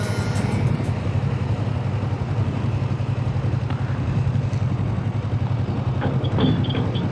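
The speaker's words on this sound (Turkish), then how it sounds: "Videolarımda geçen kırmızı motor bu." A red motorcycle rides along the road in strong wind, its engine giving a steady low throb under heavy wind rumble, close and continuous.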